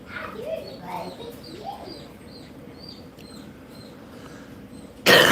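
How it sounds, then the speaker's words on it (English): A newly hatched bird chick chirps in short, shrill repeated peeps close by outdoors, moderately loud, with soft background noise and a sudden loud burst at the end. "I don't even know what kind of bird he is, but he's a loudmouth."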